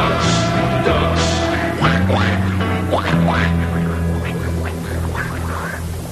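Ducks quack repeatedly in short, raspy bursts over a steady musical drone, fairly loud and continuous throughout, with no speech.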